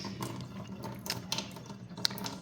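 Water runs from the dedicated faucet of an under-counter alkaline water ionizer as a faint, steady flow with a few small clicks and splashes, and no talking.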